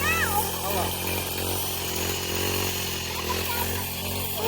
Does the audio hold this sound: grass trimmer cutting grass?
yes